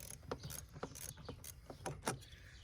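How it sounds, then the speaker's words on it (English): An 8mm socket ratchet loosening an intake hose clamp on a 2003-2007 Ford 6.0L engine, a series of soft, irregular close clicks. "loosen the clamps that I showed you in the beginning of the video with the 8mm socket"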